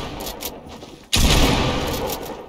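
Shotgun blasts in the Fortnite video game, a quieter burst of rapid reports followed by a sudden loud boom that keeps roaring as repeated gunfire with no talking.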